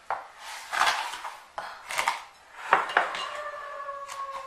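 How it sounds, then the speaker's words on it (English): Sugar is spooned into a bowl of dry ingredients for a carrot cake, with several close clinks and scrapes of utensil against the bowl and a short ringing tone, no talking. "I'll add some sugar here. Let me just do that right now."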